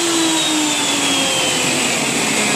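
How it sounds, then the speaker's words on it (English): Shop vacuum running beside a table saw in a woodworking shop while building a candle holder, a loud steady whine and roar that fills the whole stretch with no talk. "Now unplug table saw and unplug the vacuum."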